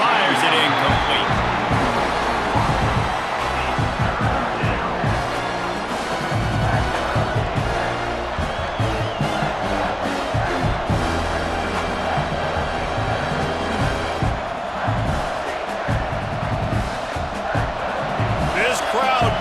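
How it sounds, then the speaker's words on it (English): A stadium crowd in the College Football 26 video game roars steadily and loudly throughout, with thumps and slams over a constant wall of cheering and play-by-play commentary talking across it. "This crowd knows when to bring it."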